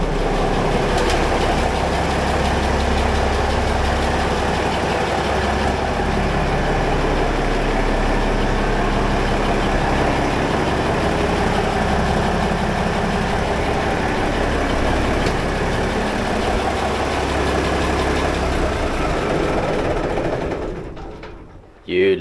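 A boat engine idles at the dock in its home port as a continuous low, throbbing rumble that holds steady for about twenty seconds and then cuts off abruptly.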